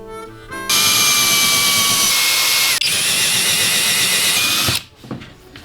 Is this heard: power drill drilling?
yes